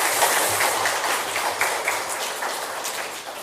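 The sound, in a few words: congregation applause for teachers in church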